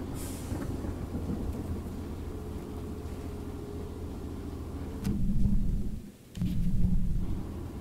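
A train runs in the video game Choo-Choo Charles with a steady low rumbling roll that swells louder toward the end, briefly dropping out before resuming, with no voices over it.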